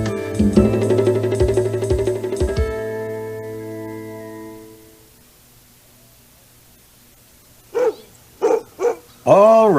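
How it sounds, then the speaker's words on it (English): A dog barks three times in quick succession after a stretch of near silence, loud and close, following an earlier burst of sustained tonal sound. "All right, Blackie, that's enough barking."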